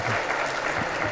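An audience claps for senior students at a batch inauguration of a Sree Narayana dharma study centre, a dense, steady burst of applause filling the short moment without talk.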